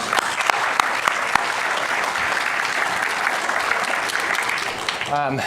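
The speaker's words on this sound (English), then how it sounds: "So give them a round of applause." A conference audience breaks into sustained, even applause for a team, steady and full throughout, with a brief voice emerging at the very end.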